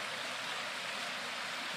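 A flowing stream rushing steadily in an outdoor natural setting, a dense, even wash of water noise close by with no voices.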